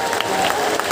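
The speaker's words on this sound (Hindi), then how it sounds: "ताली बजाकर सबको सीताराम कह के धन्यवाद दो" A crowd claps together for about a second at a devotional gathering where young girls are being thanked for a day of service. The clapping is steady and dense throughout.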